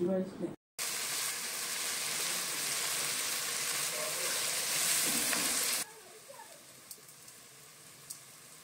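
Tomatoes and dried red chillies sautéing in hot oil for a village-style chicken gravy, a loud steady sizzle and frying crackle that runs for several seconds after a brief cut, then drops away to quiet stirring.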